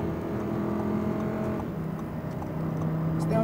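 An Audi R8 V10 RWD accelerating on a track, a steady loud engine drone heard from inside the car, building slightly in pitch and strength toward the end.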